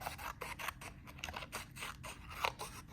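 Scissors snip through paper for a piñata craft project in a rapid, steady run of crisp cuts, fairly quiet and close up, with no talking.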